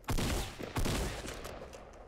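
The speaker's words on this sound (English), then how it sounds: "someone out over this way started shooting me" Gunfire in a Fortnite Battle Royale match, two sharp close bursts of shots about two-thirds of a second apart, followed by fainter scattered reports fading out.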